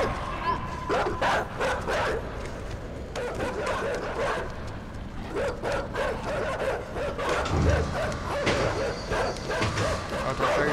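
Dogs in the video game INSIDE bark, yip and whimper repeatedly at moderate distance, mixed with game ambience and occasional mechanical sounds, while a person talks at times over them.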